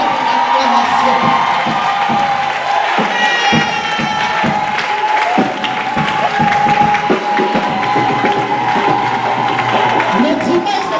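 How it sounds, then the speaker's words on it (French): A church congregation at a Sunday praise and worship service cheers, whoops and claps in sustained acclaim, a loud continuous crowd roar with shouted voices throughout. "Je veux ce matin que tu démontres ta joie à notre Dieu par l'acclamation."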